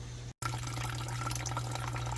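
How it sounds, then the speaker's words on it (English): Aquarium water draining from a tank into a gallon jug, a steady continuous trickle and splash with a brief cut near the start, moderately loud and alone. "I'm going to drain it through here, at least a gallon"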